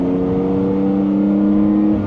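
A small go-kart-like drift car's engine drones steadily and loudly through a loud exhaust, a close, sustained low rumble with no speech.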